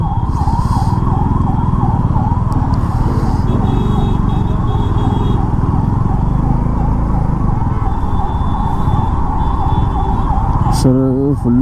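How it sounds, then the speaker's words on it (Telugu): An ambulance siren wails in a steady repeating rise and fall, loud and close, over dense engine rumble of a traffic jam heard from a motorcycle ride, continuing throughout before a brief horn-like change at the end. "అరే అంబులెన్స్ వస్తుంటే కనీసం అరే సైడ్ కూడా జరగట్లేరు ఎవరు కూడా."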